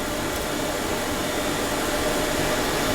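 An electric mixer whisks a sugar mixture for tiramisu, giving a steady, loud whirring drone that holds at an even level for the whole stretch with no talk over it.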